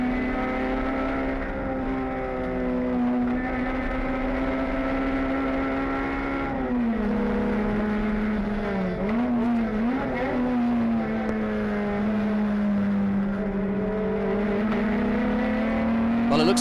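Race car engine drones steadily and loudly at the Sepang circuit, with a green and white Honda among the cars, its pitch shifting slightly as it accelerates and backs off, with commentary talk running over it.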